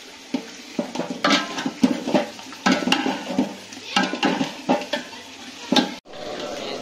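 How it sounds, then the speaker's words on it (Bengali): Mutton being stir-fried in oil in a pot for biryani: a close, steady sizzle broken by repeated scraping and knocking of a spatula against the metal pot, with rhythmic stirring strokes. "তো এখানে মাংসটা কষছি"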